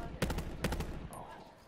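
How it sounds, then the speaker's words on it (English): Automatic weapon fire in Call of Duty Blackout: two short bursts of rapid shots, fairly close and quite faint, then a brief quiet tail, with no speech. "I just shot somebody. I had to shoot him."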